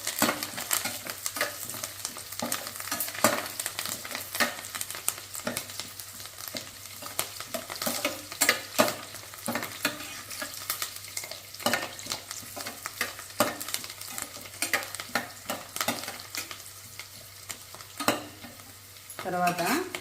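Cashews frying and being stirred in a pan for chicken kaju fry, a steady oily sizzle broken by frequent scraping strokes of a spoon against the metal, close and continuous, no voices.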